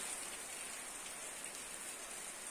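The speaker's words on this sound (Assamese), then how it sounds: "এইখন শ্লাইডত ধুনীয়াকৈ বৰষুণৰ টোপালবোৰ পৰি থকা তোমালোকে দেখা পাইছা" Steady rain with raindrops falling, a continuous soft hiss with fine crackle, even and unbroken throughout, with no voices.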